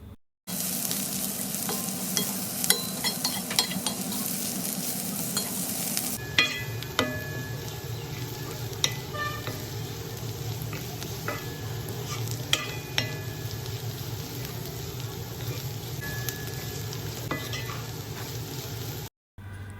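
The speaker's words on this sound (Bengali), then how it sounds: "ভালো করে নেড়ে তারপরে ভেজে নিচ্ছি 3 থেকে 4 মিনিটের মতো, যতক্ষণে করলা সিদ্ধ না হয়" Bitter gourd frying in oil in a pan over fairly high heat, with a steady close sizzle and repeated scraping and clinking as it is stirred, and no talking.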